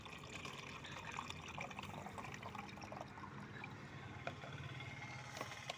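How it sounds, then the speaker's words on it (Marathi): Soaked tea powder, potato peels and onion peels are strained through a sieve, giving a steady, faint trickle and splash of liquid with occasional drips throughout. "तर हे सर्व चाळणीने चांगलं गाळून घ्यायचं."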